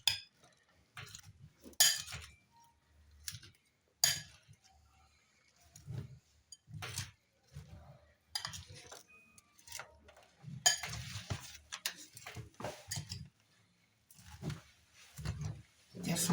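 Cauliflower salad, white and purple, being stirred together with fresh milk in a bowl, heard as intermittent clinks and scrapes of a utensil against the dish, fairly quiet with pauses between strokes.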